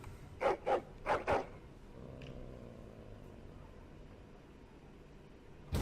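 Four sharp dog barks in quick succession, fairly close, followed by a low steady hum and a faint brief tone, from the video game Dragon Age: Origins.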